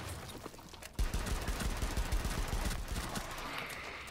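Machine gun fire in Rainbow Six Siege rattles in a fast, continuous burst of rapid shots lasting several seconds, fairly quiet and distant-sounding.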